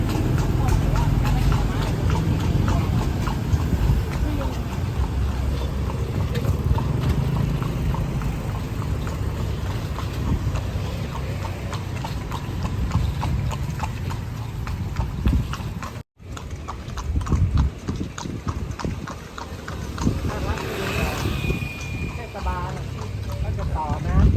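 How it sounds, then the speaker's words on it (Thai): Hooves of a horse pulling a tourist carriage clip-clop steadily through the streets of Lampang, Thailand, close and continuous for the whole stretch, with someone talking over them most of the time. "จะมีรถม้า นะครับ ไว้ คอยบริการนักท่องเที่ยว"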